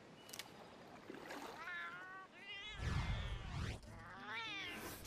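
Cat meowing in Metal Gear Solid Peace Walker, several drawn-out wavering meows in sequence, close and fairly loud.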